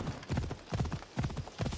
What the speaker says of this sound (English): we're gonna do some mountain climbing on a horse